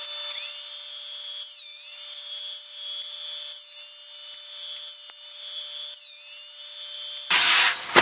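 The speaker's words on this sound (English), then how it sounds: "Clean up with planer again." A power wood planer whines steadily while cleaning up a thick veneer board, close and loud with a few rising pitch sweeps, ending in a brief burst of rough cutting noise.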